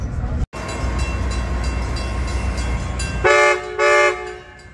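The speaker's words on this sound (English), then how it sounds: "here's Amtrak Capital Corridor, 743" Amtrak Capitol Corridor passenger train passing close by, a steady loud rumble of rolling cars followed by two long, loud horn blasts near the end.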